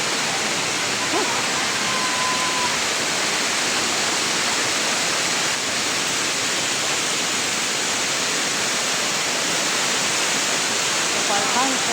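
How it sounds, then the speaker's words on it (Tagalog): Parkhan Falls in a hidden garden in Ilocos, a steady, dense roar of falling water that fills the whole stretch at constant loudness, close and unbroken. "Sa Parkhan Falls."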